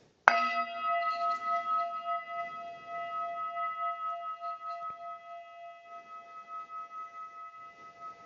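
A single gong struck to open a silent pause in a Vinyasa yoga session, one clear strike followed by a long, slowly pulsing, fading shimmer in an otherwise quiet room.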